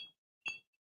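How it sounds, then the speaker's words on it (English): Faint clinks of a square crystal-clear ice cube in a glass of whiskey, two short glassy taps with near silence between them. "But I've got a beautiful crystal clear square custom ice cube. And we'll just pour a little bit of this whiskey over the top."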